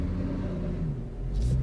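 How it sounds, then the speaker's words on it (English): Mazda CX-30 crossing a gully off-road, a short low engine rumble with steady drone, nearby and moderately loud. "here we go off-road in the Mazda CX-30"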